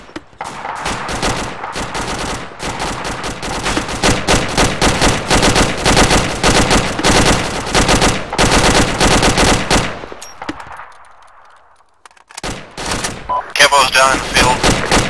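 Machine guns lay down suppressive fire in long, loud, rapid bursts that stop briefly near the end, then resume with voices shouting over the gunfire.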